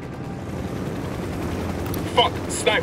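Attack helicopter in the Ghost Recon Wildlands video game, a steady low rotor rumble throughout with a few brief sharp bursts near the end.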